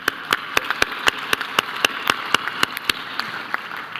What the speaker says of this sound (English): Okay, we just give a big round of applause.